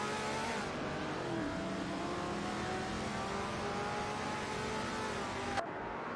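Vintage supercars race around Spa in a video game, engine tones droning and shifting pitch steadily as cars run together, one note sweeping down near the end before a sudden cutoff; no voices.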